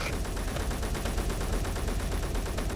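Assault rifles fire in rapid, overlapping crossfire in the Space Engineers video game: dense, loud bursts of shots rattling continuously with no pause.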